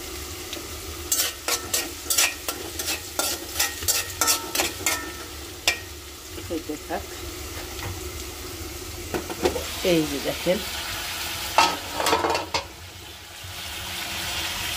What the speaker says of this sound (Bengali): আমার ফুলকপি, সিম, বেগুন ভাজতেছি, আর একটু ভাজা হলেই নামিয়ে ফেলবো।